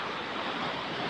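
Ocean surf at Pangandaran beach, a white-sand shore, rushes in as a steady, broad wash of waves with no pauses and no voices.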